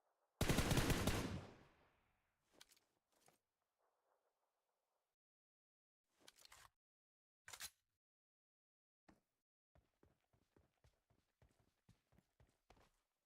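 Gunfire in a competitive video game shooter match opens with a loud blast, followed by scattered single shots and then a quick run of sharp, evenly spaced clicks near the end, with long quiet gaps between.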